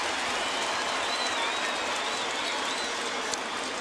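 Home baseball crowd in a ballpark gives sustained applause for Ichiro, a distant, even wash of many clapping hands with murmuring crowd noise underneath.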